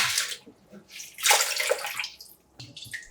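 Cabbage shaken and washed in a large bowl of water, with splashing and sloshing in uneven bursts close by and short quiet gaps between them.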